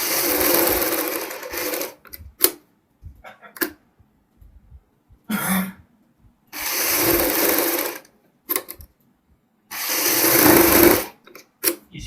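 Sewing machine stitching the neckline of a boat neck blouse, running in several bursts of a few seconds each with quiet pauses and small clicks between them, close and clear with no talking.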